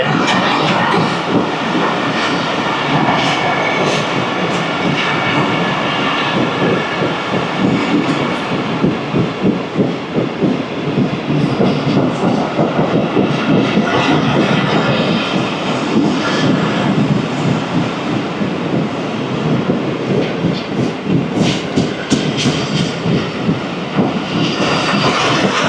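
A train passes through Jhimpir station, a loud, close, continuous rumble and rattle of wheels and carriages that holds steady for the whole stretch without letting up.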